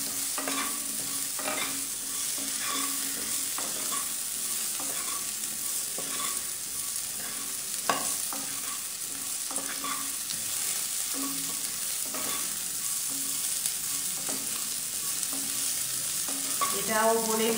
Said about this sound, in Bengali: সোনালি রং ধরা পর্যন্ত কপিগুলোকে আমি